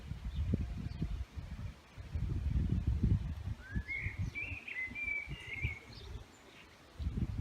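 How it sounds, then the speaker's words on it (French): Faint birdsong drifts in from a distance outdoors near beehives, with a few high chirps and trills over a soft rustling, breezy background. "il y a beaucoup de chants d'oiseaux"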